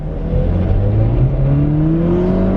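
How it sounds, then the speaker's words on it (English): A 2022 Chevrolet Camaro LS with a 2-liter turbo four accelerates, its engine note climbing steadily as the turbo spools up. The sound is loud and close from inside the car, with no talking. "You can kind of hear the turbo sort of spooling up a little bit"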